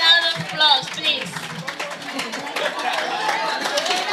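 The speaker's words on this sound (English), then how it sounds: "Can you give Madam Baji a round of applause, please?" An indoor crowd at an annual company staff gathering claps in scattered, uneven applause, with cheers and chatter mixed in, moderately loud and continuous for several seconds.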